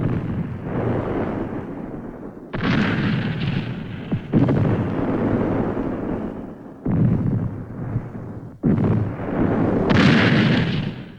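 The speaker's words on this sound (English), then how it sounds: "The Navy ships with their 8 and 16-inch guns are able to fire up to 23 miles inland." Navy ships' 8- and 16-inch guns fire inland in Vietnam War footage: loud, heavy booms at intervals of a few seconds, each sharp blast followed by a long rumbling roar that fills the gaps.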